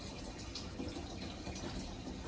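Water drains through a siphon pipe in a DIY in-wall aquarium, a steady close gushing and trickling flow that continues without a break.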